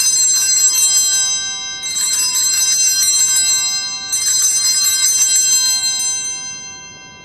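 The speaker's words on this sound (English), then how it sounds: "The altar server rings the bell thrice. Please watch how the bell is rung." An altar bell is rung three times during the consecration at Mass, each bright, ringing peal sustaining loudly and overlapping the last, with no voices.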